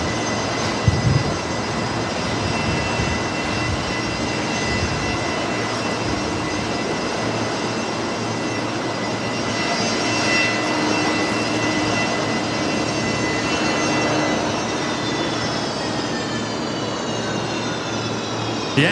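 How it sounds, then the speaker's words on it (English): An old Fokker airliner's engines roar at Brisbane Airport at night, a loud, continuous drone with a steady whine running the full length, no voices over it. "it's a noisy old thing, isn't it, Emery? the Fokker there"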